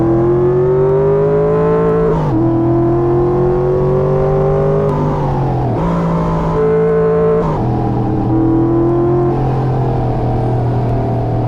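A 1969 Chevrolet Camaro engine revs loudly and steadily for the whole stretch, its pitch climbing and dropping in several rises as the throttle is worked, with sharp shifts between revs and no voices.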